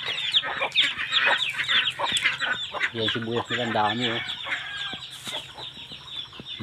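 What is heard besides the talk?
chickens clucking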